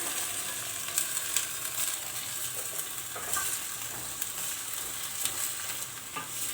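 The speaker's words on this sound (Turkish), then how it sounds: "Hemen yeşil fasulyemi koyuyorum üzerine." Green beans tip into a sauce in a pan and get stirred, giving a steady close sizzle with soft scraping and clicking stir noises throughout.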